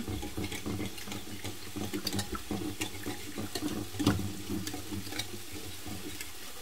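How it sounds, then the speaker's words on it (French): Hot pasta cooking water is ladled from the pot, with steady sloshing and liquid churning that continue throughout, close by and without talk. "Une fois les pâtes cuites, je prélève une louche d'eau de cuisson."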